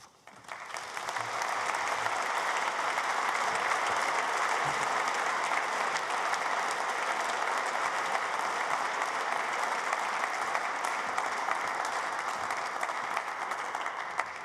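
Sustained applause from a large audience at a graduation ceremony, steady and dense for the whole stretch, with no voices standing out.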